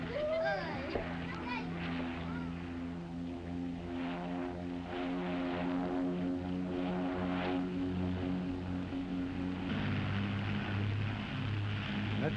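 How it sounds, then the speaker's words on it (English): Propeller airplane flying in, a steady droning engine hum with a pulsing beat, heard at moderate distance throughout, with people talking over it. "That's your brother's plane?"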